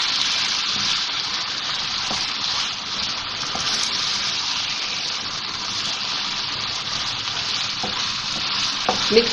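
Minced meat mixed in hot oil over high heat gives a continuous loud sizzle with the occasional scrape and stir of a spoon in the pan, and no voices.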